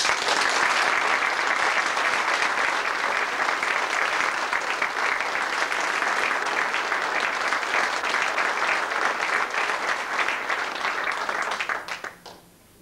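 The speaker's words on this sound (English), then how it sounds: "I would like you to give them an enormous round of applause for their 100 years." Loud, dense applause from an audience at a 1988 sports awards ceremony in Limerick runs steadily for about twelve seconds, then quickly fades out.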